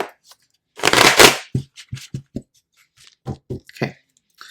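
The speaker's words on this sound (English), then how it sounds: "A couple more shuffles." A burst of riffling as a deck of cards is shuffled, followed by several soft taps and clicks of cards being squared and handled.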